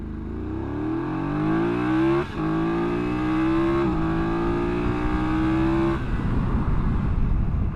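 BMW F900GS Adventure motorcycle braking hard from 80 with ABS in a corner: a steady engine note drops in pitch in stepped glides as the bike slows, loud and close, then turns rough and broadband at the end, with no talk.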